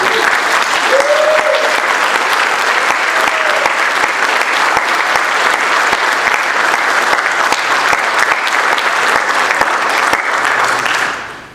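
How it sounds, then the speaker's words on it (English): Sustained audience applause for new National Honor Society inductees at a 2022 induction ceremony, a dense steady wash of many hands lasting about ten seconds before tapering off quickly at the end. "join me in a round of applause"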